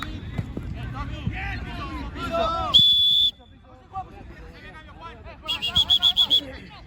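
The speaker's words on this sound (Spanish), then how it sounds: "Hay cambio, hay silbato." A sharp, high referee's whistle at an amateur football match blows one long blast, then a rapid series of short trills, cutting over a busy crowd and nearby chatter.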